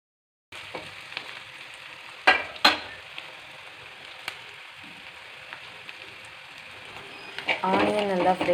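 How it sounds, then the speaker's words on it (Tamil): Chopped onions frying in a pan for valakkai kootu curry give a steady close sizzle, with a few sharp clatters of stirring and the frying growing busier toward the end. "ஆனியன் நல்லா கோல்டன் ப்ரௌனிஷ் ஆகிற வரைக்கும் நல்லா ஃப்ரை பண்ணிக்கோங்க"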